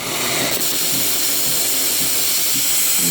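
An espresso machine's steam wand purges steam before frothing milk for a cappuccino, a loud, steady, broadband hiss running continuously and up close.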